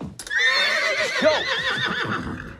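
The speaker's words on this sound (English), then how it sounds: "There's a horse in your house." A horse lets out a loud, wavering whinny up close, trailing off into shorter fluttering snorts near the end.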